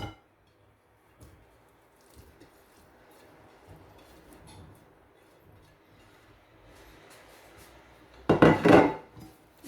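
Vegetables for a homemade vegetable soup tumble into a pot and are stirred, a brief loud clatter near the end after a long, quiet stretch of faint kitchen noise.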